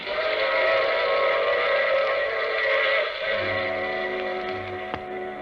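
A steady rumbling train runs throughout, with a sustained whistle-like tone on top and a brief sharp accent near the end.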